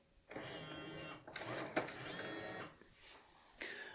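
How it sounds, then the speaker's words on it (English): Bambu Lab AMS feeding PLA filament into a 3D printer, with faint whirring motor bursts and soft mechanical clicks that start and stop in short stretches. "As long as the filament is detected, EMS is trying its best to push it through."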